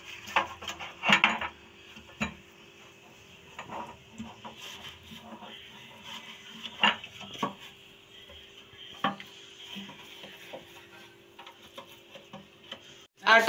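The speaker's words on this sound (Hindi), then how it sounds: "पैन को हमने कुकिंग ऑयल लगाना है अच्छी तरह से" Metal baking pans for brown bread are greased with cooking oil, giving scattered light clinks, taps and rubbing sounds close by, with brief speech mixed in.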